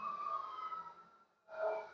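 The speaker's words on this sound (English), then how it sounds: "I don't know if y'all can hear the ambulance" An ambulance siren outside wails faintly in a wavering tone, cuts out for a moment, then swells back in slightly louder, with no voices.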